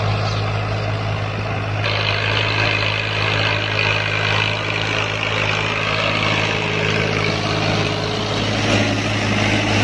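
A tractor engine drones steadily and loudly while pulling a Ghazi disc harrow through a field, a continuous heavy rumble with no breaks from start to finish.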